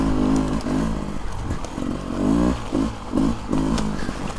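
A 2023 Beta 300 Race Edition two-stroke dirt bike on a rocky Pennsylvania mountain trail, its engine revving up and down in repeated bursts with clattering over rocks, loud and close, no talk.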